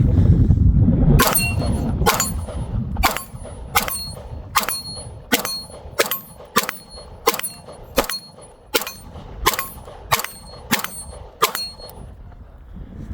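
A Sig P226 Legion SAO pistol fires Federal 124 grain ammunition in a string of about fourteen sharp shots at a steady, fairly quick pace, each a crisp crack with a short ringing tail.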